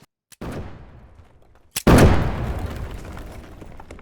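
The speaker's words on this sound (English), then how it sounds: "You're going to see that this tent is going to explode rather quickly." Explosive charges blow up a tent and a wooden base wall in the DayZ video game: a sharp crack, then a second, much louder detonation whose crashing, rumbling debris decays over two seconds.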